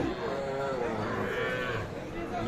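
Small calves tethered in a row at a livestock market moo loudly and continuously, a close, sustained lowing call with no talk over it.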